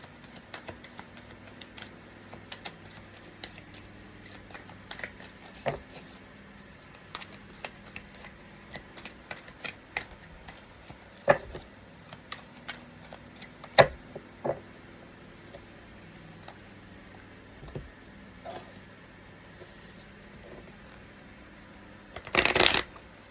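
Tarot cards are shuffled softly and sporadically: scattered light flicks and riffles over a quiet background, ending in a louder, denser burst of shuffling.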